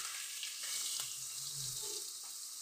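Chopped onion sizzles and crackles in hot oil with whole spices, cumin, bay leaf and dried chilli, a steady, close frying hiss with a few soft stirring knocks and no talk.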